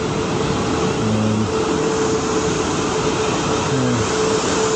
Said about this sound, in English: the train coming through. Not for me.